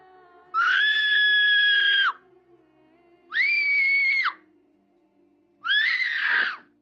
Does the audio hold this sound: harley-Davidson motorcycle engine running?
no